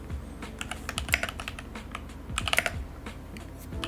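Steady typing on a computer keyboard, with a run of quick, close key clicks and a few heavier presses clustered near the middle and end, no voices present.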